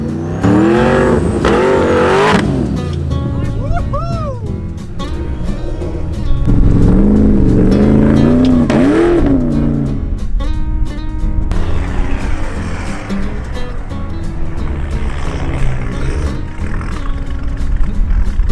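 A four-wheel drive vehicle grinds along an inland track near a beach, its engine loud and steady throughout, rising and falling as it revs and strains over the rough ground.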